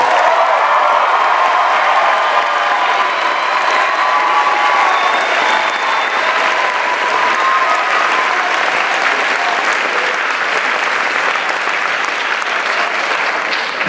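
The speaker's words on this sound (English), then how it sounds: "Can you guys all do that massive clap again?" Audience applause at a spring choir concert, a loud, sustained wash of many people clapping with a few cheers, steady throughout and close-sounding.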